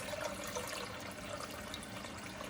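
Water pours steadily into a cooking pot on a stove, a continuous splashing rush with no pauses.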